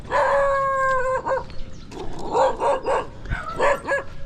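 Several dogs on a street in Dumaguete, Philippines, bark and howl close by, a drawn-out howl followed by a rapid run of overlapping barks and yips.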